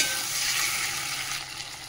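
Meat is stir-fried in oil with ginger garlic paste, small tomatoes and green chillies. A short, steady sizzle and stirring hiss plays with no talking.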